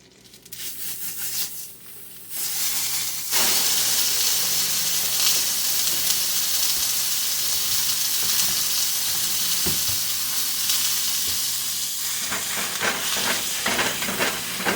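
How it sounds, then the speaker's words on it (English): Ground beef from Hayes Family Farms frying in a hot pan, loud continuous sizzle and hiss with scraping and stirring as the meat is broken up, close and steady for most of the stretch. "I'm going to break this ground beef up."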